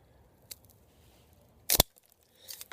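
Cigar cutter clipping the end of a Rocky Patel Decade Cameroon Robusto cigar, one sharp close snip preceded by a faint click and followed by soft rustling.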